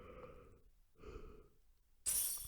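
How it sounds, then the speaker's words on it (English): Someone yawning, a long drawn breath with a soft voiced tone, followed by a second shorter exhale, faint and close, before a sudden hiss of noise. "can't stop yawning"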